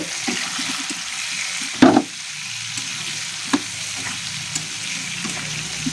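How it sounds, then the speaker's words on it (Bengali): Drumstick stems (sajne data) frying in a pan with salt and turmeric, a continuous close sizzle with a loud stir or clatter near the start and a few light scrapes afterward, no talking. "সবজিটা একটু কিন্তু ভাজা ভাজা হবে"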